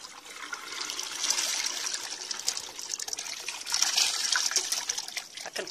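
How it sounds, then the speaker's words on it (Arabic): Water pours and splashes over beef tripe as it is washed, a close, continuous gushing trickle that swells and eases. "ونولي نكب الماء من فوق صافي، وكنبقاو غاديين بهذه الطريقه."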